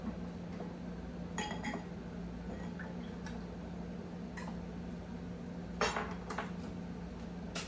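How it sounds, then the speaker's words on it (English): Metal canning lids and bands being set on glass jars while canning eggplant caponata, giving scattered light clinks and taps at irregular intervals over a steady low hum. "I'm just gonna go ahead and get my lids on"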